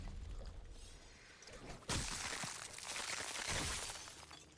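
A damage explosion sets off in a Ninjago video game when two elemental afflictions, fire and ice, hit at once: a sudden bursting, shattering crash that follows a quieter stretch, then a sustained crackling, debris-like wash that slowly fades.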